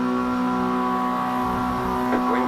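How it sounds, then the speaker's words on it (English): Several race car engines in the Rumble Racing video game rev steadily at the start of a race, a continuous loud droning hum with rising notes near the end. "Revs are up."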